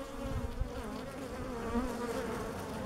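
A dense, steady buzzing of many honey bees close by at a hive with queen cells, droning continuously without pause.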